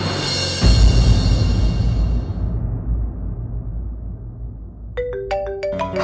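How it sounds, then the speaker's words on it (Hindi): A phone ringtone plays a short bright electronic melody of rising and repeating tones, entering near the end after a fading music sting and low rumble, with no one speaking. "पापा का फोन।"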